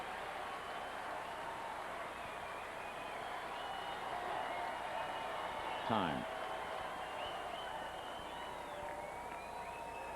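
A baseball crowd at a Padres vs Dodgers game at the stadium makes a constant distant murmur. A brief swell of cheering and applause rises around the middle, and a voice speaks once.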